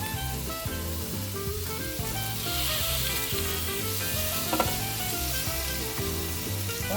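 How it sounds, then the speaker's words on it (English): Steady, close sizzling of food frying in a hot grill pan at 500 degrees, a continuous crackling hiss with a faint tonal hum underneath. "Here's sizzling."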